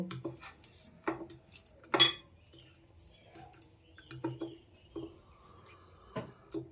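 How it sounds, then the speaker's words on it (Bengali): Fish being rubbed with salt and turmeric in a dish, giving scattered soft clinks and scrapes of utensils against the dish, a few sharper knocks, with quiet gaps between. "মাছের সঙ্গে লবণ আর হলুদ খুব ভালোভাবে মাখিয়ে নেব"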